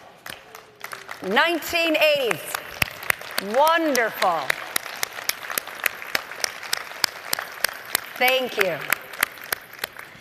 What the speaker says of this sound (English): please stand up so we can applaud you